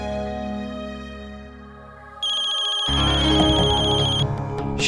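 Mobile phone ringtone sounds loud and close for an incoming call in a domestic TV drama scene, a melodic ring that shifts and builds over several seconds with no one talking.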